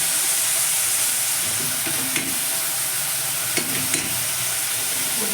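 Chopped eggplant sautéing in a pan for chutney gives a steady loud sizzle and hiss, broken by a few sharp clinks and scrapes of a spoon stirring, close up and with no talk.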